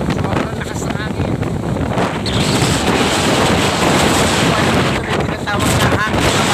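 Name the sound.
very strong wind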